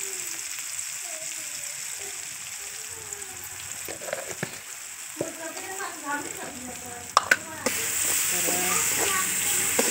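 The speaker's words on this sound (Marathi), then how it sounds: "हे बघा आपली मिरची पण चांगली परतली आहे मस्त" Garlic, green chilies and onion fry in a pan with a steady close sizzle and crackle, broken by stirring scrapes and clatter; a voice speaks briefly, and the frying grows louder and brighter toward the end.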